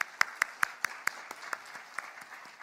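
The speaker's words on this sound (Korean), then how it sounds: "우리 하나님께 영광의 박수 한번 드릴까요?" A church congregation claps in a sparse, uneven rhythm, with sharp individual hand claps popping out one after another over a faint room background. The applause is light and fairly distant rather than a dense ovation.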